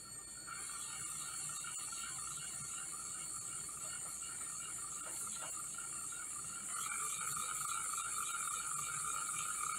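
An earth field magnet motor driven by PWM runs continuously, giving a steady mechanical whir with high-pitched electronic whine and faint ticking, fairly quiet and unchanging throughout.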